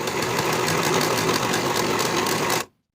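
A sewing machine or serger runs steadily while finishing the raw bottom edge of a sleeve for a peplum top, a continuous close mechanical whir with rapid stitching pulses that stops abruptly near the end.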